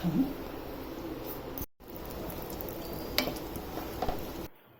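Cashews fry gently in oil in a pan on a low gas flame, giving a soft, steady sizzle with faint occasional clinks, broken by brief silent gaps.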